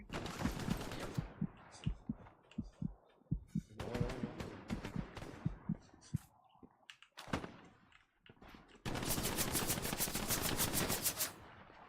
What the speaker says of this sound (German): Das ist aber irgendein LMG, Alter. Auf uns ballert.